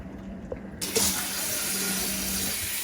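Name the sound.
hot water being poured into a crock pot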